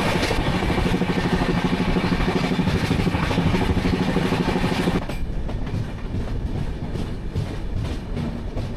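A train runs along the tracks toward Vizag, a loud steady rumble with rhythmic clatter that drops slightly in level and brightness partway through, no voices.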